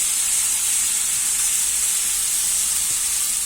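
Onion and garlic sizzling in a hot pan, a dense, even frying hiss held steady and close throughout.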